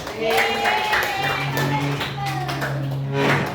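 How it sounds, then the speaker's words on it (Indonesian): A small group claps briefly in a classroom during a teacher training session, light patters under ongoing speech and a sustained tone. "Ya, tepuk tangan dong untuk kelompok sini."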